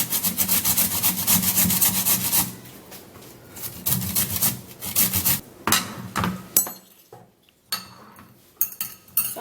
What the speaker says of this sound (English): So I'm going to be grating the potato so that you can get the juice.